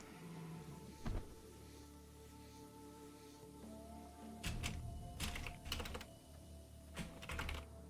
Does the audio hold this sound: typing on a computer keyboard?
yes